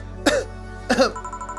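A game character in VA-11 Hall-A clears the throat twice, two short, rough bursts with a pause between them, close and fairly loud over a quiet background hum.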